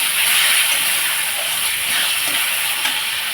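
Spices frying in hot oil in a home kitchen, a loud, continuous bright hiss and sizzle with small crackling bursts, close and steady throughout.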